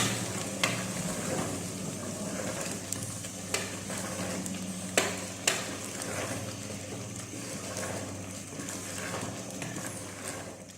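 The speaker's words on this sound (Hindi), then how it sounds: "अभी इसमें हरा धनिया डालेंगे और अच्छी तरह मिक्स कर लेंगे" Chickpea masala gravy with green coriander is stirred in a pan, a soft continuous sizzle broken by several sharp clicks of a spoon striking the pan.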